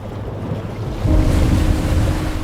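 Ocean surf surges in, a loud broad wash that swells midway and rolls on with gusty wind buffeting the microphone, no voices.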